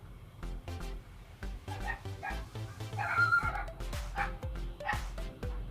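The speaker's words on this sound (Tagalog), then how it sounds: "ang ingay ng aming aso" A dog barks and yips repeatedly nearby, sharp high yelps mixed with whiny whimpers in an excited, uneven rhythm.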